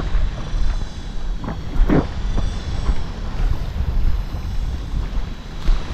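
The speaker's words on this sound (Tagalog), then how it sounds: "Medyo may hangin-hangin na ng konti mga master." Wind gusts across the microphone out at sea aboard a small fishing boat, a loud rumbling buffet that rises and falls unevenly throughout, with faint water and hull sounds beneath.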